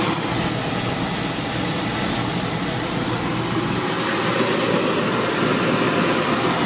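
A Beckett oil burner fired up and running, giving a steady, loud roar with a continuous hiss and hum that stays even from start to finish.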